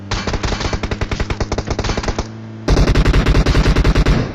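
Rapid automatic gunfire in a shooting video game: two long bursts of evenly spaced loud shots, briefly separated by a pause, with no talking.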